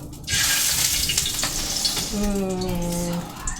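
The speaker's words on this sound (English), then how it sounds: "Now it's time for the tocino to sizzle." Tocino sizzles loudly in a hot frying pan with a steady crackling hiss, while a brief low hum sounds partway through.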